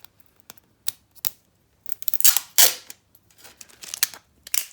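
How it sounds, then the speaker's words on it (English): Adhesive tape is pulled, torn and pressed down on folded paper for a handmade party bag, giving irregular close crackles, rips and crinkles with short pauses between. "you fold it over and you tape down this side"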